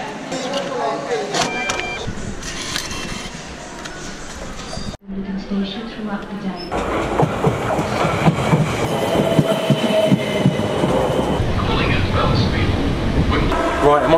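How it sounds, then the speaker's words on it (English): A UK train to Clandon rumbles along the rails with rattling carriage noise and squeaks, briefly cutting out before returning louder and steadier. "Right, I'm on the train now to Clandon."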